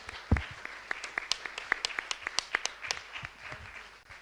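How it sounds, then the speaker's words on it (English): Audience at a Lisbon conference applauds the speakers, a steady wash of many hands clapping with sharp individual claps standing out, moderately loud and sustained for several seconds. "I just want to ask you a big round of applause for all our speakers"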